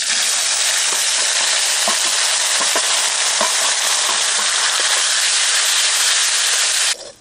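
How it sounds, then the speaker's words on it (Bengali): Onion, garlic and ginger paste frying steadily in hot oil with cumin and curry leaves, a loud continuous sizzle with occasional stirring clicks, cutting off near the end. "পেঁয়াজ রসুন আদাটা আমি ভালো করে ভেজে নিয়েছি"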